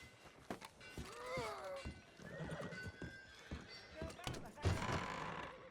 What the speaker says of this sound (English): Wait, is that Sadie's horse?